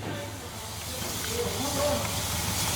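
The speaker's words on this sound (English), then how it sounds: "This little beast has been shut down for about 4 hours. Still whispering steam out." A small steam locomotive at a heritage railway, shut down for hours, keeps up a steady, soft broadband hiss of escaping steam, close by, with faint tonal hums underneath and no talk.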